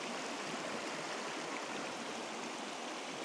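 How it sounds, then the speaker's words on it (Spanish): Water in a stream runs steadily through the Cañada de los Lirios ravine in the Mixteca of Oaxaca near Miltepec, a soft, constant rushing hiss heard alone at low level. "Y este es el agua corriendo."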